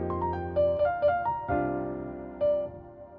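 A programmed piano melody with varied note velocities plays on its own, with single notes and chords struck at uneven loudness and left to ring and decay.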